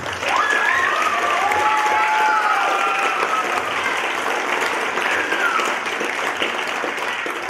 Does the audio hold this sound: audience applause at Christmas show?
yes